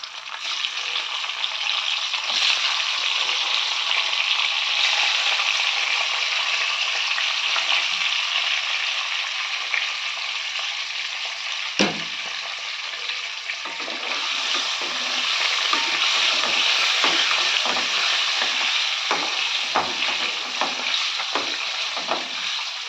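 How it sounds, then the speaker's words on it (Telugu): Eggs frying in hot oil for a Telugu curry, giving a loud, steady sizzle throughout with a brief thump midway and scattered crackles and spatters toward the end, no talk. "ఆయిల్ వీటెక్కిన తర్వాత గుడ్లు వేసుకొచ్చండి"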